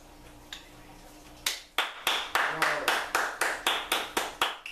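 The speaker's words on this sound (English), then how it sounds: "Give myself a hand clap on that one." Preacher clapping his own hands during a sermon at a Christian church, a run of about a dozen sharp, evenly spaced claps close to the microphone with a voice speaking briefly before them.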